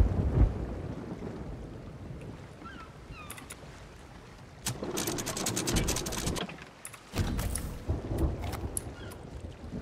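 Thunderstorm in a video game, with deep rumbling thunder and crackling bursts over a steady bed of rain and wind. The sound rises and falls in loud surges, with no talking.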